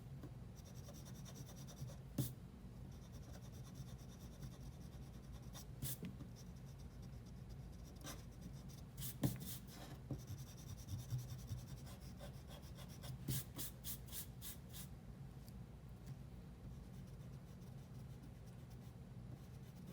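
A pencil draws light strokes on paper, making soft, quiet scratching and rubbing close by, in short intermittent bursts with brief pauses.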